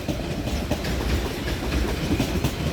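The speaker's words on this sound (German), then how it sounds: "Einfahrt des ICE Augsburg." An ICE train rolls into München Hauptbahnhof with a steady, close rumble and a faint rhythmic clatter of wheels that holds even throughout.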